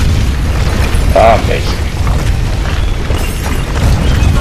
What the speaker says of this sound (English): Okay, boom, explosions.